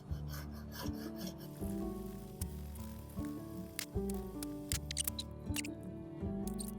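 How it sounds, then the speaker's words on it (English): Rhythmic rasping strokes of a sanding block rubbing back and forth over the wood of a 1975 Martin D-41 acoustic guitar, close up and steady, with no talking. "I'm just going to take a little sanding block, just try to level it the best I can"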